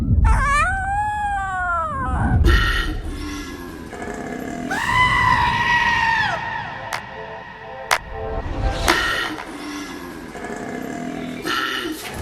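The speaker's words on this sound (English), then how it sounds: "Next we have a cute, fluffy little koala who is calling for his mate" A koala calls for its mate, giving loud, deep, rasping bellows and snorting grunts that rise and fall in a series of rough, harsh calls with short pauses between them.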